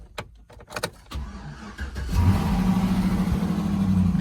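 A Dodge Charger on 22-inch wheels with its check engine light on, at an insurance auction, gives a few clicks and thumps before its engine catches and settles into a steady, fairly close running rumble.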